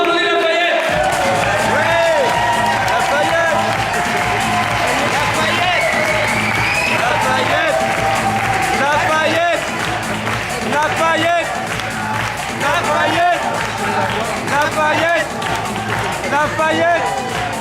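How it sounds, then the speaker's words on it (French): An audience at a slam poetry competition applauds a team from Lafayette, a dense, steady wash of clapping and crowd noise that carries on throughout, with voices talking over it. "on applaudit Lafayette"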